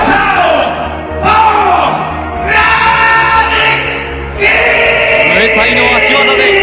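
A capacity crowd of about 20,000 at a Muay Thai fight in the Globe Arena roars continuously, swelling in loud waves of cheers and shouts that fill the whole stretch.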